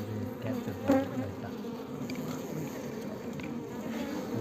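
A steady swarm of honey bees hums and buzzes around a hive inside a hollow palm tree during a honey hunt, continuous and close, with a slightly louder swell near the start.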